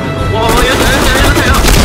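Rapid bursts of automatic gunfire from a SIG 556xi rifle ring out in a first-person shooter match, dense and loud, with a voice faintly underneath.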